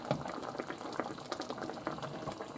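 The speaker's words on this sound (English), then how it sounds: "you see how it's coming to a really good boil?" Creamy pork chop sauce at a rolling boil in a skillet, a soft, steady patter of rapid bubbles popping close by, fairly quiet with no voices.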